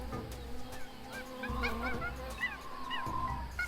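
Repeated bird calls in the jungle of the adventure game Tales of Monkey Island, short honking chirps that recur over a steady animal ambience at moderate volume, with no talking.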